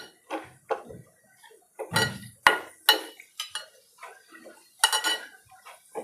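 A utensil scrapes and knocks against a pan while something fries in ghee, giving irregular clinks and taps with short quiet gaps between them.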